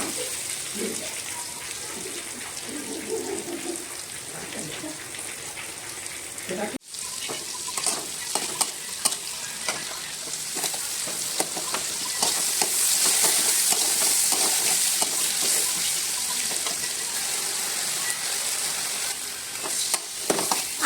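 Mutton cooks in a thin kadai while a ladle stirs it, a continuous close sizzle with scraping and clinking of the utensil, swelling louder midway.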